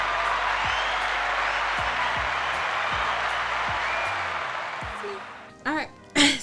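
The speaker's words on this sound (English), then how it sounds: "let's give them a round of applause" An audience applauds to welcome guests at an evening talk show, a steady dense wash of clapping that fades out toward the end, followed by a couple of short bursts of voices.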